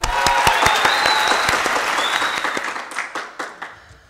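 Audience applause at a stage show as a guest is called up, loud sustained clapping from a crowd that thins into a few scattered claps at the end.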